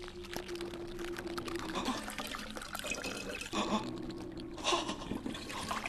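Water pours and trickles in uneven bursts at low volume, splashing and gurgling as it flows back into a bottle.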